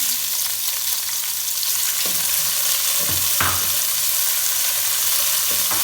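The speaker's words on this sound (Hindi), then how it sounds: "इसको हल्का सा फ्राई करेंगे इसके अंदर 1 मिनट के लिए" Julienned capsicum sizzles steadily in a hot frying pan, a constant crackling hiss with a few soft scraping knocks of a utensil, close and without talk.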